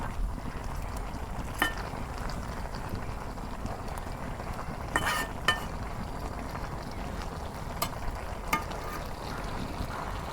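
Taro stolon curry with dried fish and jackfruit seeds is stirred in a cooking pot on a village stove, a steady low sizzle broken by occasional sharp scrapes and clicks of the spoon.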